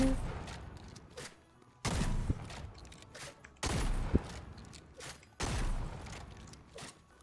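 Fortnite game gunfire erupts in several loud bursts of rapid shots separated by quieter gaps, with faint background game noise between volleys.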